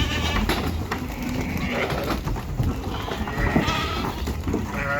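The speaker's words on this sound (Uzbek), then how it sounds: "Qo'yda har sohasidan bor mana." A flock of sheep offered for sale bleats repeatedly at close range, several animals calling over one another amid a busy pen, with people talking nearby.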